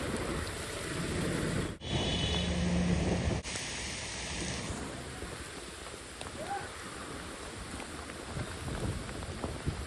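Heavy rain pours down in Ibrahimpatnam as a dense, constant wash of noise that fills the whole stretch, with a brief dip early on and no clear speech.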